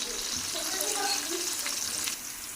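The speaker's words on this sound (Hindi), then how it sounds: "प्याज को ब्राउन करते हैं।" Half a kilo of onions browns in hot ghee, filling the clip with a steady, dense sizzle and crackle, close and fairly loud throughout, with faint stirring.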